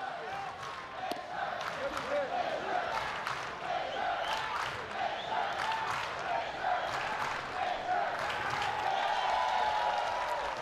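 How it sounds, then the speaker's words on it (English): Sustained crowd applause and cheering at a college baseball game between Louisville and Florida State, a steady, broad wash of clapping from a large stadium crowd lasting throughout with no break. "Coming out to the ovation from the crowd."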